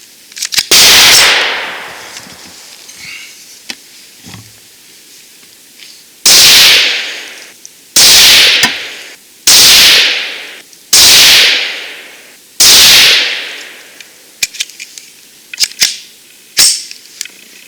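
A CZ 512 Tactical .22 WMR rifle fires 40-grain CCI Maxi Mag rounds at a 25-yard range: about seven sharp, loud cracks, each with a short decaying tail, spaced unevenly with quieter clicks between, no talking.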